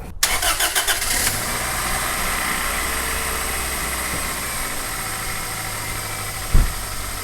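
A cold car engine cranks with a few rapid turns, catches, and settles into a steady, loud idle hum close by, with one brief thump near the end.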